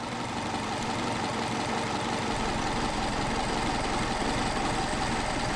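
Engine idling steadily during idle mixture adjustment of a Solex carburetor, a continuous even rumble that holds throughout, with no voices.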